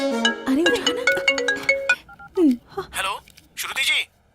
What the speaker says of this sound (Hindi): उसका फोन आ रहा है। अरे उठा ना।